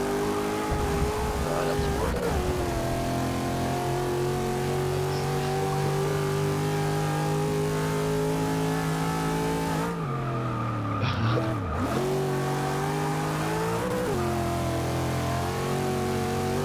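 A 1964 Impala in a Forza 6 race revs and accelerates steadily with brief wheel spin, then pitches down sharply through rapid downshifts before climbing again, a continuous mid-range engine roar.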